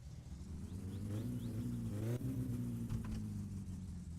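Car engine in the driving game My Summer Car, held at a steady rumbling idle with harmonic drone, briefly revving up and settling as the car is put into reverse, a few faint clicks above.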